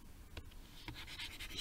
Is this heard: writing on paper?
yes